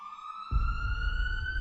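Ambulance siren in the PUBG Mobile video game, a steady wailing tone held throughout, joined after a moment by a loud low rumble of engine or road noise underneath.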